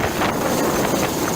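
Powerful rotor downwash from a low-flying Chinese Navy helicopter blasts wind across a sandbar near Pag-asa Island, a loud continuous roar with rhythmic buffeting.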